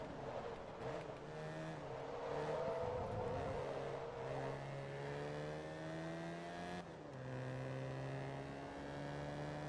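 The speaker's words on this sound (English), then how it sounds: "This is a beautiful sounding engine" A race car engine in the video game Forza Motorsport 2 revs and holds a steady, smooth tone, with rising harmonics and a brief dip and shift partway through, heard alone without talk.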